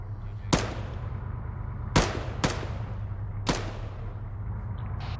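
Gunfire in the ArmA 3 military game, with four sharp single shots at irregular intervals over a steady low engine drone, each shot fading in a short echo.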